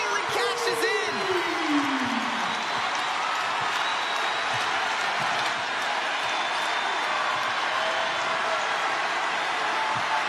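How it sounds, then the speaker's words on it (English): A crowd roars steadily through an NCAA women's basketball game between Michigan State and Iowa, loud and sustained with whoops and squeaks rising above it. "Listen to this crowd."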